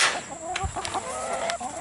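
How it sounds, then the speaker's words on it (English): Backyard hens about 20 weeks old clucking close by on a homestead, a steady run of short, overlapping clucks and murmurs with no talking. "First up, we have the chickens."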